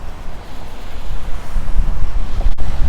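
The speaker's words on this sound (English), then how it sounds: "very windy right here" Strong wind buffets the microphone outdoors in rainy downtown Regina, a loud, rough, gusting low rumble that fluctuates throughout without any speech.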